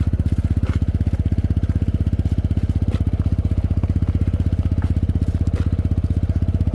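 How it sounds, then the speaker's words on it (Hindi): A motorcycle engine running during a riding lesson, a loud, close, rapid and evenly pulsing thump that stays steady throughout, with no talking. "तो वैसे हम लोग निखिल को बाइक भी सिखा रहे हैं"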